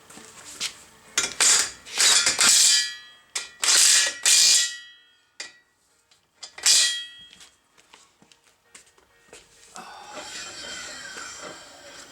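Dry bearings rattle and clang inside a fabricated brake bracket, in loud, irregular metallic bursts with ringing tones. Scattered quieter clatter follows, ending in a softer, rougher rumble.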